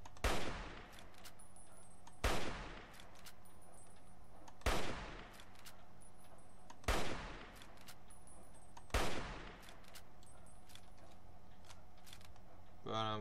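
Gunfire in the Fallout 3 video game: five loud, sharp shots spaced about two seconds apart, each decaying quickly over a constant low background hum.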